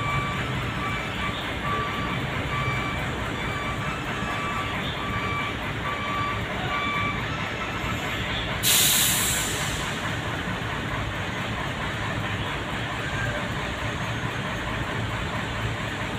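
A 40-foot trailer truck backs into a tight spot, its reversing beeps ringing steadily over a constant low diesel rumble, with a short burst of hiss near the middle.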